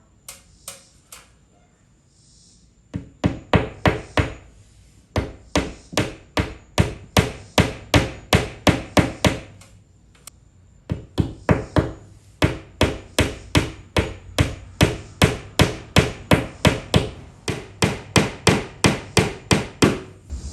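Steady hammer blows, loud and close, in rhythmic bursts of rapid strikes with short pauses between runs.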